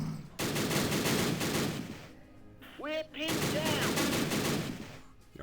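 Rifle and machine-gun fire in the WW1 game Battle Academy, a no man's land battle with a Lewis gun: dense bursts of crackling shots in two loud stretches, separated by a quieter gap with a short whistling sweep.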